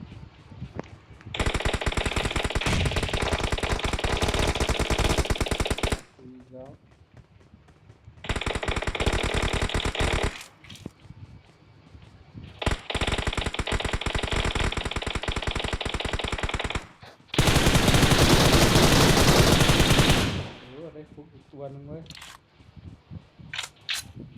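Long, loud bursts of rapid automatic gunfire in PUBG, four sustained volleys separated by short pauses, with a voice talking between them.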